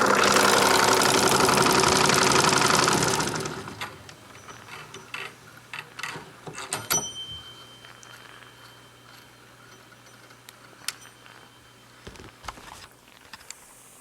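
A Wilesco D32 toy steam engine runs with a steady mechanical clatter, a loud hissing rush in the first few seconds giving way to quieter ticking and knocking of small moving parts, close up and without talk.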